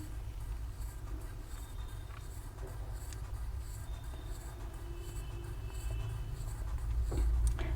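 Pen writing a continuous line of cursive handwriting pattern on paper, a steady soft scratching that runs throughout at close range and low level, with no talking.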